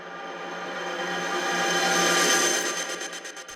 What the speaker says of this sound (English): Here's pre-drop effects where you got a riser here.